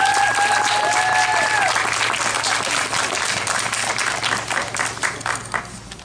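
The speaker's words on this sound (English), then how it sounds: "round of applause for our soloists" Strong, sustained applause from a concert audience for the soloists, a thick continuous roar of clapping with a low steady hum beneath and a brief tone early on.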